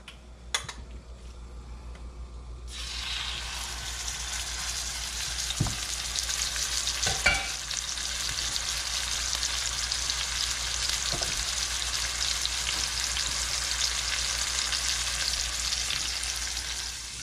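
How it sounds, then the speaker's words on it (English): Wild boar sears in a hot pan with a steady, loud sizzle, and a few clinks and stirring ticks come through early on. No one speaks. "So while the wild boar is searing before it gets braised"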